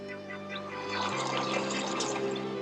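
Water sprays and splashes over a Mitsubishi Sigma and a Holden Camira being washed in the South Australian outback, a steady hissing wash over a low droning hum that swells slightly partway through.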